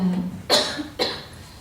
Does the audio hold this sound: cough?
yes